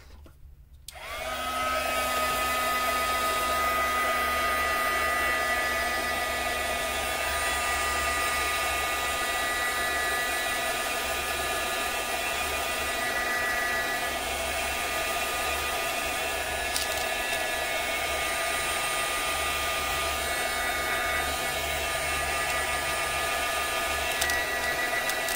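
A hair dryer runs steadily and close for the whole stretch, drying a lace doily pocket sewing embellishment, with a constant whirring roar and no talking.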